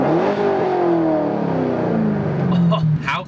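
A Corvette fitted with an SLP exhaust echoes through a tunnel, its engine note sliding down from a rev as the car carries on. Loud and close, with a short burst of other noise near the end.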